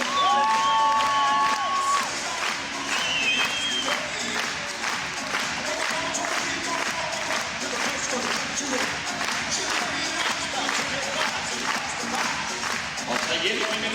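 A large audience at a gymnastics anniversary show cheers, whoops and claps continuously, a dense, loud roar of applause and shouting with children's voices mixed in, while an announcer talks over it.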